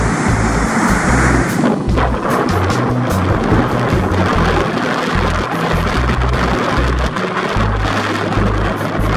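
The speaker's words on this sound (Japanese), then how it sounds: "腹胸程度の波がかなり沖から入ってきますね。" Chest-high ocean waves breaking at a surf point under strong wind, a constant loud roar of surf mixed with gusty wind buffeting the microphone.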